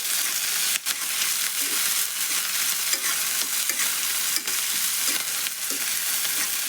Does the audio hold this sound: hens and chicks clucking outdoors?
no